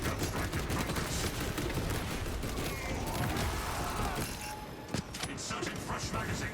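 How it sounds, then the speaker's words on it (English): A servo gun firing in Space Marine, set amid a Techmarine's horde fight: a dense, continuous mechanical rattle of rapid shots fills the scene, steady and fairly loud, with battle noise and voice lines mixed in. "Servo gun strike in progress."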